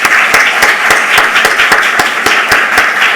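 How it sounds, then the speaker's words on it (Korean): Church congregation applauding to welcome a new family during a Sunday service, a loud, steady burst of many hands clapping with a brisk, even pulse throughout. "우리 박수로 좀 환영해 주시죠"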